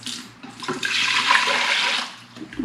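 Water pours and splashes into a cooking pot for homemade flan, a close, rushing stream lasting a couple of seconds before tapering off, with no talk over it.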